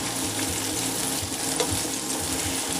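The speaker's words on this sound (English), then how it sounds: "I'm going to start putting in my peppers, my portobello mushrooms" Sliced green pepper and portobello mushrooms cook in a pan with a steady, even sizzle that carries on throughout, with no talking.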